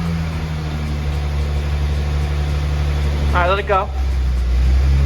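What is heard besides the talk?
BMW E30 engine idling then revving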